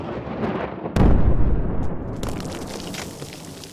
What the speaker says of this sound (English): How the story began with an explosion.